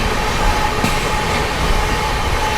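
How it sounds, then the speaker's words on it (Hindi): The Amrit Bharat Express from Rohtak to Kamakhya passes Etawah Junction at high speed without stopping, making a loud, continuous rushing roar of rail traffic close by that stays steady throughout. "रोहतक से चलकर कामाख्या की ओर जाने वाली अमृत भारत एक्सप्रेस और गजब की रफ्तार में इटावा जंक्शन को स्किप"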